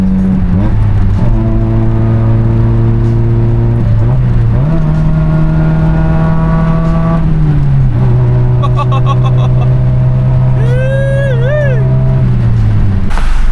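A 1989 Toyota Corolla AE92 small-body engine and exhaust heard from inside, a loud steady drone that shifts pitch around a downshift and rises in a brief rev near the end.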